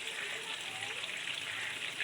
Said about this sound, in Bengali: আর এই মাছ ভাজা হচ্ছে।